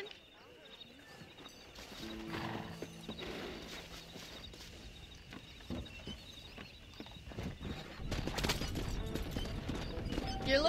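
Horses in the Western open-world game Red Dead Redemption clop along with rhythmic hooves and an occasional whinny, set under quiet in-game dialogue, with the hoofbeats growing louder toward the end.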